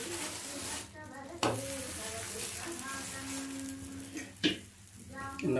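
Ragi adai batter cooks on a hot pan with a soft continuous sizzle, punctuated by a few sharp scraping and clinking utensil sounds close by, and faint tonal noises in the background.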